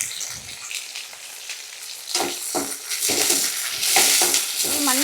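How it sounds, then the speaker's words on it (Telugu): Chopped green chillies and onions fry in a pan for a paneer curry, hissing with a steady sizzle that grows louder, while a utensil stirs them with repeated soft scraping strokes. "పచ్చిమిర్చి ఉల్లిగడ్డ బాగా ఫ్రై మంచిగా ఫ్రై అవుతున్నాయి కదా"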